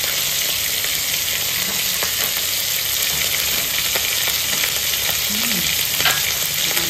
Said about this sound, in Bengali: একে একে মশলাগুলো দিয়ে দিচ্ছি